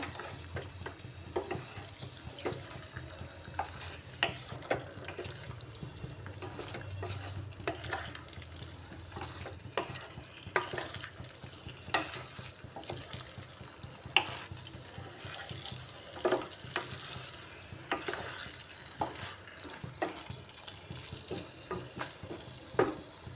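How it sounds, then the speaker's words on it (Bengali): Paneer and pointed gourd stirred and sautéed in a pan, a soft steady sizzle with scattered clicks and scrapes of a spoon, fairly quiet and continuous. "এইভাবে সব কিছু দিয়ে খুব ভালো করে কষিয়ে নিচ্ছি"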